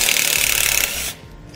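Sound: socket wrench loosening a 10 mm head bolt

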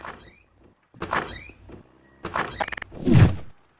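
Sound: door being opened in a video game (Garry's Mod DarkRP)

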